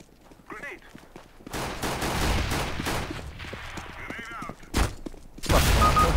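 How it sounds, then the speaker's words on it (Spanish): AWP sniper rifle shots in a first-person shooter game, loud sharp cracks and bursts with overlapping gunfire and game sounds, some muffled talk underneath, ending in a heavy blast. "cuando se compre AWP y dispare por ahí"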